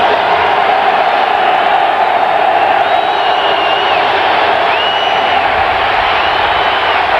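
A football stadium crowd roars steadily throughout a close NFL game between the Packers and Buccaneers, a dense, sustained wash of cheering with a few whoops rising above it.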